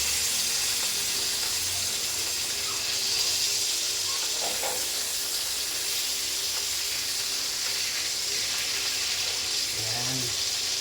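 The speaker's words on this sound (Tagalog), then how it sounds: "Baliktarin natin yung pinirito natin isda." Fish fries in a pan with oil, giving a constant loud sizzling hiss close by, with a few soft scrapes as the pieces are turned.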